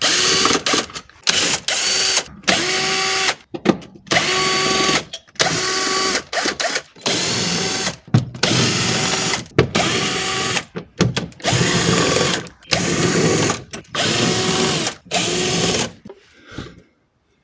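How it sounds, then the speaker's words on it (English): A power tool whirs in repeated bursts removing oil sump bolts on an Alfa Romeo Stelvio 2.2 JTDm2, stopping and starting again and again in quick succession, loud and close, then cuts to quiet at the end. "Now it's just a matter of taking out all of the bolts."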